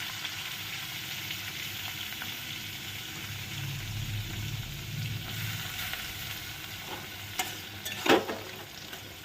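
Chopped onions sizzle in butter in a pan over low heat for a North Indian dish, a steady crackling hiss throughout, with a few utensil clinks and scrapes of stirring toward the end.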